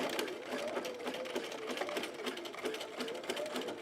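A sewing machine runs steadily, stitching long basting stitches on a bralette, its rapid needle clatter continuous and close with no talking.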